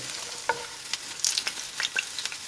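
Beef chicharrones frying in a pan give off a steady hissing sizzle with scattered sharp pops and crackles, moderately close and without speech.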